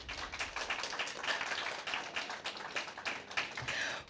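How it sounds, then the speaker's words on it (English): Steady applause from a school debate audience after a secondary student's timed presentation, a dense patter of many hands clapping at even loudness throughout, with no voices over it. "A round of applause."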